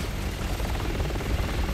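A helicopter in the video game Resident Evil 6 gives off a steady, loud rotor rumble and a broad whooshing roar that keeps going with no break.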